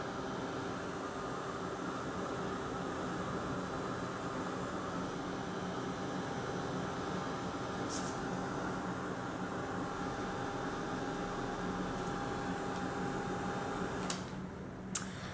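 A heat tool blows steadily while heat-setting decoupage on a tag, a continuous airy whir with a faint whine, holding even for most of the stretch before a brief clack and cut-off near the end.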